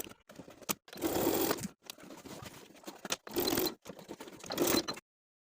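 A sewing machine stitches a rectangle through the overlapped short ends of elastic for a pants waistband, running in three close bursts of whirring with short pauses and soft handling noises between.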